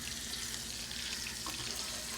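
Goan sausage frying in masala and toddy vinegar, a steady dense hiss and sizzle at moderate volume, continuous and close with no talking.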